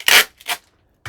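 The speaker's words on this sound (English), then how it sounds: "sorry for the noise, Scotch tape instead of packing tape" Scotch tape rips off the roll in two quick, close tearing bursts, followed by a brief pause and a third short sound.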